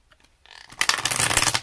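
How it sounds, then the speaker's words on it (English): A deck of playing cards is riffled: a few faint taps, then a loud, crisp burst of fluttering card edges that lasts about a second, close to the listener. "This deck has such a good shuffle."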